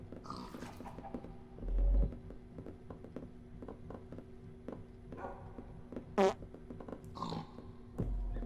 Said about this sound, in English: You guys and all your farting sounds.